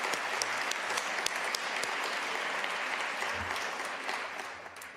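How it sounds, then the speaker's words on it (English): A crowd at a university awards ceremony gives a round of applause, many hands clapping steadily for several seconds with a few sharper claps standing out near the front. "I think a round of applause to everybody here who's involved in that."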